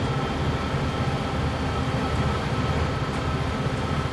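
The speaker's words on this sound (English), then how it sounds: "There's the trash train right there." A freight trash train rolls along in Train Sim World 6 on Metro North lines, a steady low rumble with constant broadband engine and track noise throughout, no voices.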